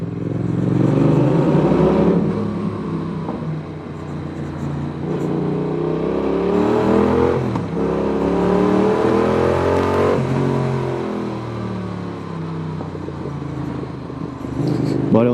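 A 2019 Yamaha XSR 700 motorcycle accelerates hard, its engine note climbing through rising revs with gear changes around two, eight and ten seconds, loud and close, mixed with wind rush from onboard riding.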